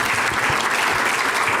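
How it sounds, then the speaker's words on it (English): A short, dense burst of audience clapping at a rally against book bans and curriculum censorship, loud and continuous throughout. "So let's clap on that."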